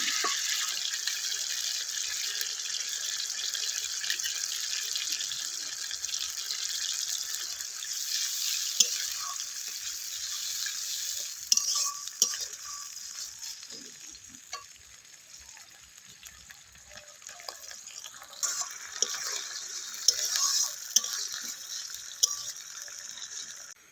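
Tomato and onion paste sizzles and fries steadily in a pan for a fish curry, a constant hissing crackle with a few light stirring clinks and scrapes scattered through, close and moderately loud with no talking.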